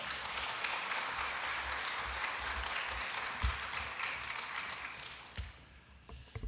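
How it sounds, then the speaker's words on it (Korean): A church congregation claps to welcome the pastor to the stage, a dense, sustained patter of applause heard from a distance that fades slightly toward the end. "목사님 나오실 때 큰 박수로 환영하겠습니다"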